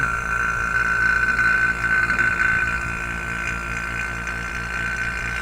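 A vacuum pump runs steadily on an air-conditioning line during evacuation, giving a constant mechanical drone with a strong tonal whine. It stays loud and even throughout, with no talk over it.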